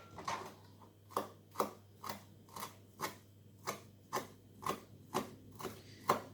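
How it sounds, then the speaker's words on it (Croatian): Parsley being chopped finely with a knife for a cheese and garlic salad, a steady series of about a dozen crisp, evenly spaced knife strikes on a cutting board, close and moderately quiet with no talking. "Imamo peršun koji trebamo sitno da iseckamo."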